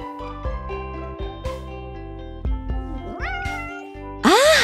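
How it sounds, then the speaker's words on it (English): A small cartoon kitten meows several times, high and plaintive, with short pauses between cries; the final meow is louder and more drawn out. "It's a kitten."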